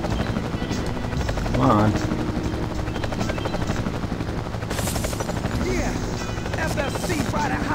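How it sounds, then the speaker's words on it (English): A pursuing helicopter in the game Marc Ecko's Getting Up fills the scene with a loud, continuous rotor thrum and chopping roar, joined by bursts of gunfire-like noise, while a voice speaks briefly over it. "that chopper won't leave you alone"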